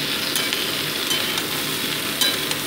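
Small fish cook with winter beans, radish, eggplant and potato in a pan, a steady close sizzle of frying with occasional stirring scrapes and clinks, no voices.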